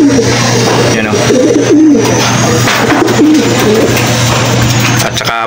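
Pigeons coo in a steady, close, continuous series over a constant background hum, with faint voices now and then; these are racing pigeons kept for North Derby races.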